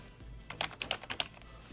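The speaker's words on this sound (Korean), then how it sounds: "Alt 키를 누른 상태에서 엔터 키를 눌러서 줄을 바꿔줄 수도 있습니다" Quiet typing on a computer keyboard while pressing Alt and Enter keys, a short run of about half a dozen crisp key clicks in an irregular rhythm.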